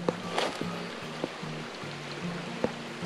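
A small, clear stream at a campground in Hachinohe, Aomori flows with a steady, gentle wash of water. A low engine-like hum and a few faint knocks sit beneath it.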